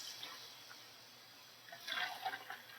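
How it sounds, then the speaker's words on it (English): Distilled water pours into a plastic cup, a soft trickle that swells into a brighter, splashing pour near the end, faint and close. "Now, distilled water into a plastic cup."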